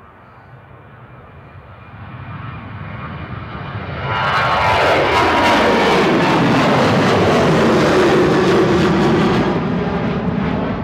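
A Ryanair airliner taking off from Manchester Airport bound for Copenhagen, its jet engines rising from a distant rumble into a loud, sustained roar as the plane accelerates past, holding strong to the end.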